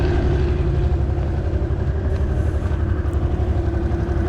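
A Honda DN-01 automatic motorcycle engine runs at a steady, close, low throb, pulsing evenly like an idle with slight variation and no talking.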